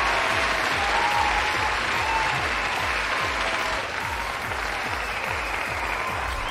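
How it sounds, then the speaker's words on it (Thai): Sustained, loud applause, steady clapping throughout with no voices standing out, during a live stream of the video game Warframe. "ปรบมือให้กับซาริน"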